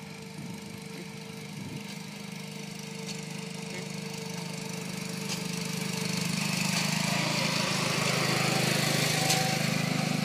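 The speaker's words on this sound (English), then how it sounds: "It's the best tractor." A John Deere 210 garden tractor engine runs steadily with a low droning hum, growing slightly louder toward the end as the machine nears.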